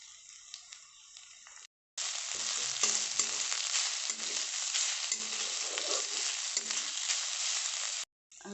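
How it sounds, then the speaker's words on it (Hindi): Onion, garlic, ginger and chili fry in a pan for an Odia eggplant, ivy gourd and potato dish: a loud, close, steady sizzle with stirring, broken by brief cuts to silence. "इसमें लहसुन और अदरक डाल देंगे और मिर्ची भी डाल देंगे।"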